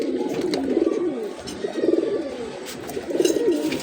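Fancy Lotan pigeons, a red-eyed pair of a breed kept for show, coo in three rolling, throaty bursts at roughly even intervals. The birds are close by and heard alone, with no voices over them.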